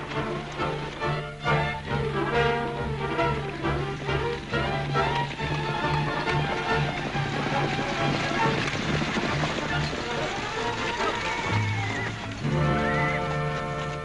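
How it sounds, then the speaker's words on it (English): Many horses gallop with pounding hoofbeats and a neigh, mixed with swelling dramatic music; busy, loud, and continuous throughout. "Sounded like a lot more horses to me than just one team."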